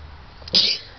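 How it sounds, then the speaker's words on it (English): A single sharp sneeze, close and loud, over a faint background hiss. "hold on, I gotta sneeze again"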